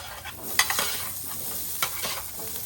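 Potatoes coated in chimichurri oil sizzle on a hot griddle as they are turned, a steady close frying hiss with a couple of sharp scraping accents from the spatula.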